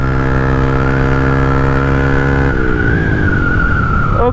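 Loud, close motorcycle engine revving steadily, with the pitch climbing and then dropping as it shifts up through second and third gear, ending in another rising whine.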